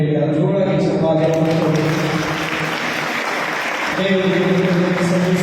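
Loud, sustained applause from an audience at a Jesus Passion play, a dense steady wash of clapping lasting throughout, with a voice talking over it at the start and end.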